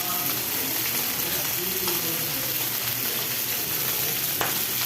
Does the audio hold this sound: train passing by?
no